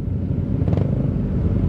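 A motorcycle engine drones low and steady. A short revving surge comes partway through, set against rumbling road noise on an off-road group trip.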